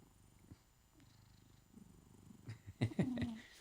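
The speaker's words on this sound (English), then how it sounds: "Can you hear her purring?" A house cat purring up close, a soft low rumble building gradually, with a few louder vocal-like sounds near the end.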